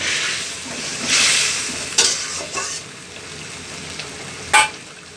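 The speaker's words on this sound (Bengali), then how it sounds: "তারপর একটু নেড়ে চেড়ে নেব।" Koi fish curry with milk and a few raisins stirred in a hot pan, with a steady sizzle broken by a few sharper scraping strokes of the spoon, close and fairly loud.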